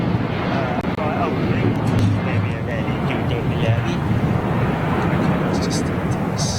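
Jet aircraft at London Gatwick Airport roar steadily through a broad, continuous rumble with wind buffeting the microphone, while someone talks over the noise throughout.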